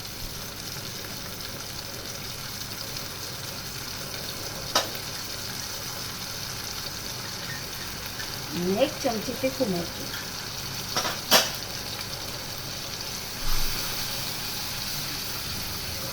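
Low, steady sizzle of spices, coriander-cumin powder and Kashmiri chili, frying in oil, with a voice talking over it and occasional clinks of a spoon against the pan.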